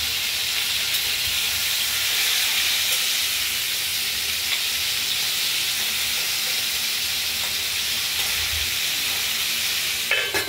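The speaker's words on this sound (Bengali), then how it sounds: "আর ফুলকপিগুলো আমাদের প্রথমে কাজ হলো এগুলোকে তেলে ভেজে নেওয়া।" Cauliflower florets frying in hot oil, a steady loud sizzle and hiss close by, with occasional stirring and spattering throughout.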